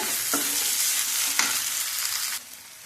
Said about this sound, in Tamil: கீரையை சேர்த்து நல்லா வந்து வதக்கலாங்க